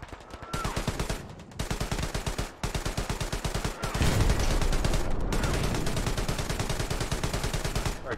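Machine gun fire in the World War II shooter game Hell Let Loose rattles in loud, close, rapid bursts, with brief gaps between the first few strings before a long, sustained stream of shots.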